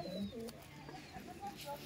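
Soft, low cooing from an old Bengali Giribaz pigeon, faint and murmuring over a steady background hiss, repeating in short phrases across the whole stretch.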